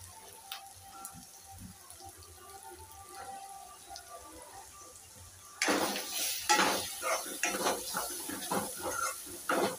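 Soya mince is mixed with garam masala, coriander powder, cumin powder and red masala in a pan. A quiet stretch of faint kitchen noise gives way to loud, close stirring scrapes and clinks from the utensil against the pan.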